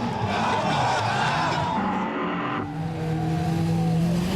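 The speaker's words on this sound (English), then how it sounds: "Look at those cars go." Drift cars, including a Nissan S13, at a Formula Drift competition in Wall, New Jersey, with engines roaring loudly and continuously and tires squealing as they slide through the corners.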